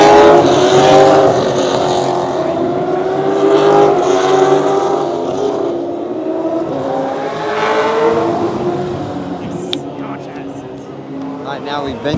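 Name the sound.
supercars racing during qualifying session at Australian Grand Prix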